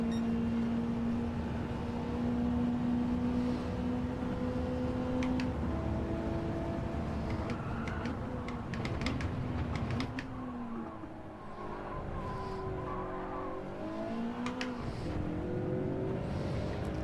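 Engine note of a race car in Gran Turismo 7, a continuous tonal drone whose pitch climbs and shifts through gear changes, steady and prominent throughout with no talking.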